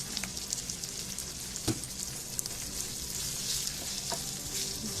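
Beef in oyster sauce sizzles and crackles steadily in a hot pan while being stirred, with occasional sharper clicks of a utensil against the pan, close and moderately loud, no talking.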